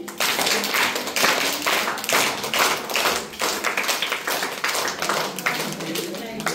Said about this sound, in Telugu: ఆల్ ఆఫ్ యు 1 2 3 1 2 3 క్లాప్స్ కొట్టండి